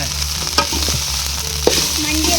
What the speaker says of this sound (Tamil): தலைவா கொஞ்சம் மிளகாத்தூள் போட்டுக்கலாம் தலைவா. வதக்கு தலைவா